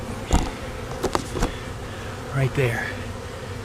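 A honeybee swarm buzzes in a low, steady drone under a house, with a few sharp knocks and handling sounds over it and someone briefly speaking nearby.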